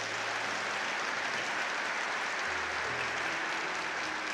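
Church congregation at a Sunday Mass applauds continuously, a soft, even wash of many hands clapping at a distance with a low hum underneath.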